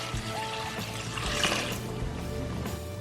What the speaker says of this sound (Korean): 그 다음 꼬들빼기에 소금물을 부어주세요.